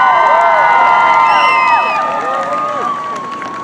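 An outdoor airshow crowd cheers and shouts as parachute jumpers come in to land, overlapping whoops and high-pitched yells from many people, loud and close, slowly thinning out.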